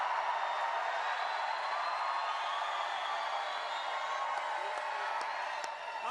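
A large crowd at a Donald Trump campaign rally in Melbourne, Florida keeps up a steady, distant roar of cheering and whooping, with a few sharper shouts near the end.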